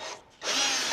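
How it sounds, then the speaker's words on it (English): A power drill spins a bolt extractor on a stripped bolt on a Honda FL5, a brief close whir that dips for a moment and then runs again at full speed. "Good old extractor, here we go."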